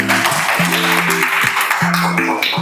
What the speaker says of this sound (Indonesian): tepuk tangan buat Pindah dan Pracilia.